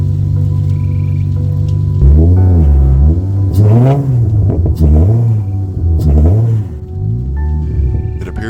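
An Infiniti G35 coupe with its VQ V6 revving hard, the engine note climbing and falling in several repeated blips close up, loud and unaccompanied by talk.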